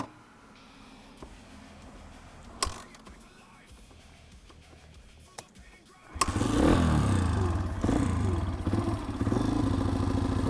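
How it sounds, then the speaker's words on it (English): Honda CRF150 dirt bike on choke, a few clunks and kick attempts, then the engine catches and settles into a loud, close, uneven idle that runs on steadily. "Now let's see if this bike fires up."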